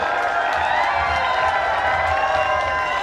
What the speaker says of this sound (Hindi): please cheer for Rajasthan kho kho league final, तालियों में कमी ना रखें एवरीवन